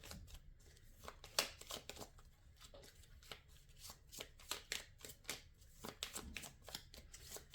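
Tarot cards are shuffled and drawn in a quiet room, with soft repeated flicks and riffles and a few sharper card snaps, faint and close.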